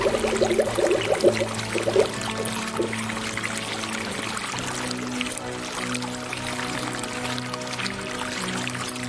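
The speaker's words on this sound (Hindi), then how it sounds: "और एक बोतल में पानी निकाल लिया।" Water from a pond is poured into a bottle, a steady liquid stream with a continuous, even gurgle lasting several seconds, with no talking.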